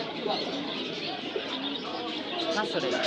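Pigeons coo and chirp throughout a busy pigeon market in Bangladesh, blended into a dense wash of crowd noise and nearby voices talking.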